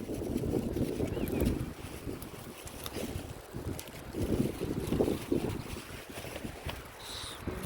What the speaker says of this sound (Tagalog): Oh, ang lakas ng hangin oh.